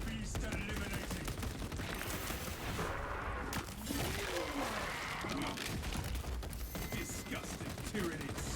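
Heavy bolt rifle fire in a Warhammer 40,000 shooter, dense rapid bursts of gunfire layered with game effects and a continuous busy mix.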